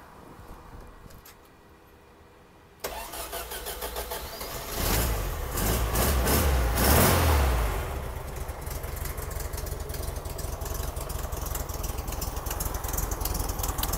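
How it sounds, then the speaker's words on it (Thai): A 1970 Volkswagen Beetle engine cranks and catches after a quiet start, revving up loudly before settling into a steady, close, rough idle that runs to the end with no talk over it. "โอเคเดี๋ยวสตาร์ทดูครับเดี๋ยวผมให้พี่ชายผมสตาร์ทให้"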